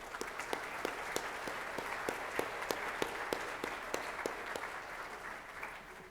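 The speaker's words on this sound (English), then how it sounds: "let's give everybody a round of applause" Quiet, distant applause from an audience at a city address, a steady patter of many hands clapping with a few distinct claps standing out, continuing for several seconds.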